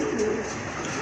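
Fancy Golla pigeons, including a maxi-coloured pair, cooing close by: low, soft, rolling coos in a continuous murmur at moderate volume.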